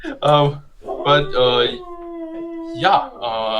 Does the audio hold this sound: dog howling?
yes